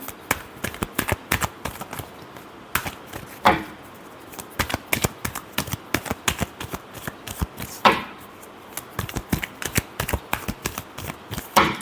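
Tarot cards shuffled by hand in rapid repeated flicks and riffles, close up and fairly loud, in steady bursts broken by brief pauses, with no talking.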